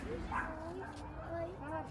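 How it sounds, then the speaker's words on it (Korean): A dog barks and yips during a street church outreach, short repeated calls heard under steady talking by a narrator. "개가 짖습니다."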